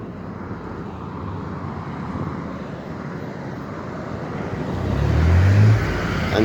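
An Ontario Provincial Police car passes by during an evacuation in Gravenhurst, Ontario, a steady broadband road and engine rumble that swells to a louder pass near the end, with no speech over it.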